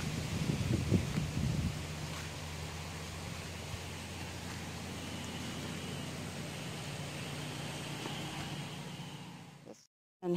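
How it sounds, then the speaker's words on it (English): Steady wind gusts through garden plants on a farm, a soft continuous rustle and breathy roar with microphone buffeting near the start, fairly faint and with no voices. "The wind is blowing them crazy"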